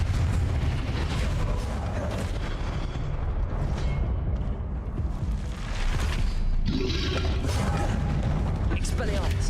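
Loud blasts from a Confringo fire spell in the video game Hogwarts Legacy, arriving as a series of booming bursts with heavy rumbling in between, amid spell-casting combat and other game noise.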